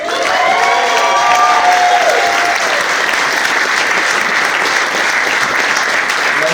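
Wedding guests break into a loud, sustained round of applause for the bride, dense clapping with a few light cheers, steady and close throughout.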